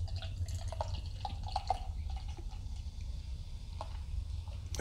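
Lakeport Pilsner beer pours into a glass with a soft, steady splashing trickle and faint drips, fairly close over a low background hum.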